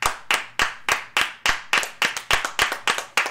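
People clapping in a room, a series of about fourteen sharp, loud, close claps in a steady rhythm that quickens slightly toward the end, with no voices.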